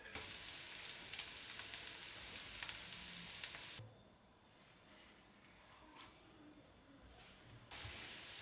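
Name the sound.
diced pork sizzling as it sears in a pan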